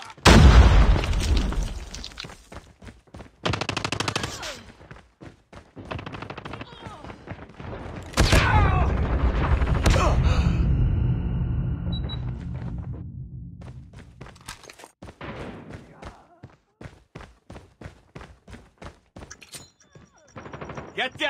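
Gunfire and explosions from the Call of Duty video game: dense bursts of shots and several heavy booms close up, with a loud blast around the middle, then scattered shots and footsteps toward the end, over voice chatter.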